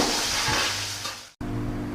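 Chilies for sambal terasi stirred in a hot frying pan, a loud, close sizzle with scraping stirs that cuts out for an instant and then resumes.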